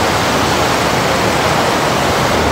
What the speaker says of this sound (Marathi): नदी बघू शकता खूप जोरात वाहते